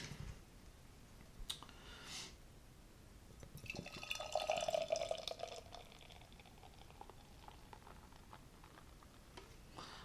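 Beer, a coffee rye pale ale, is poured into a glass, giving a soft gurgling, splashing stream that swells in the middle and fades, with faint clinks around it.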